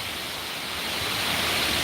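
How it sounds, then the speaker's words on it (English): Waterfalls at Mandalay Bay in Las Vegas pour as a steady, dense broadband rush of water, loud and unbroken, with no voices. "waterfalls"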